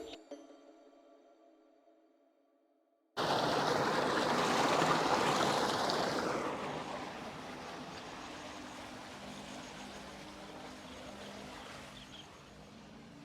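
A steady motor hum with rushing, splashing water starts abruptly after a short quiet stretch, then settles into a continuous running drone.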